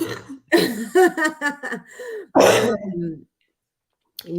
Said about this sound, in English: I have a terrible cough happening